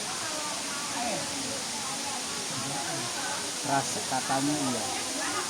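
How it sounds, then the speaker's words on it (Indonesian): Sedudo waterfall in Nganjuk, East Java, sends out a steady, distant roar of falling water that sits faintly beneath people chatting. "Sedang di air terjun"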